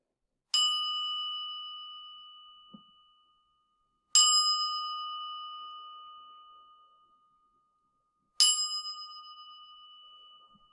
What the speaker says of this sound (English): I'll ring a bell 3 times to begin and end the meditation.